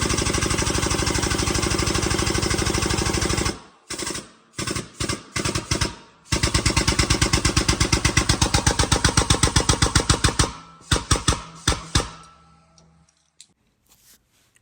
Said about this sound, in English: Right now I'm just popping out the upper races on the Roadglide using my Motion Pro tool